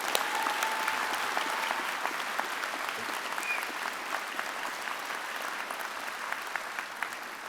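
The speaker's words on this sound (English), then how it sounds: "Let's give another round of applause for all our graduates today." An audience at a University of Calgary fall convocation ceremony applauds the graduates in a dense, steady ovation that holds at an even level throughout, with no voices rising above it.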